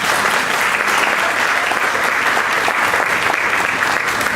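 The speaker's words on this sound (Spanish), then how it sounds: "Un aplauso para ella." A church congregation applauds together during a sermon, a dense, steady wash of clapping that fills the room evenly without pause, loud and close throughout.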